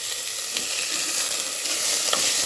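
Chopped vegetables and curry leaves sizzle in hot oil in a pan, a steady close frying hiss with a few soft stirring scrapes, no voices.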